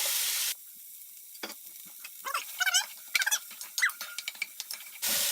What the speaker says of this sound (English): I got a hot, big old pan here, a little olive oil. I'm going to throw those onions in there.